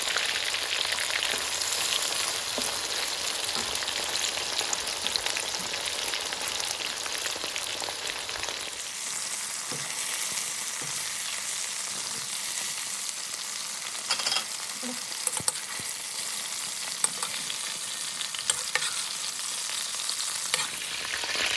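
Chicken browns in a frying pan on medium-high heat, giving a steady close sizzle and crackle throughout, with occasional stirring clicks and no talking.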